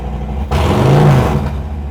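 An Italian motorbike engine with a bassy, agricultural character revs up suddenly and loudly, the note rising and falling over about a second before easing back toward idle.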